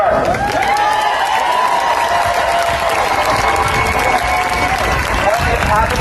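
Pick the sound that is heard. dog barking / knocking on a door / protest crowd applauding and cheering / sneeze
protest crowd applauding and cheering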